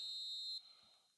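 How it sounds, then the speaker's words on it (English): A referee's whistle blows for half-time in a football video game, a single shrill, high-pitched blast held for about half a second before it fades into quiet. "There's the whistle for half-time."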